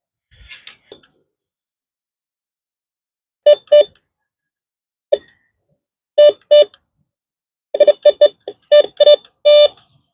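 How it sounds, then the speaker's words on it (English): Metal detector beeping over buried pennies in the ground, with short sharp tones in pairs and quick clusters, loud and close, separated by silent gaps. "I got the beep right here though."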